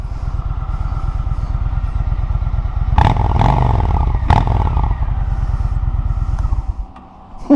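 A 1998 Honda Shadow Ace motorcycle engine runs steadily close by with a low, pulsing exhaust rumble, broken by a few sharp clattering knocks midway, before the engine note drops and fades near the end.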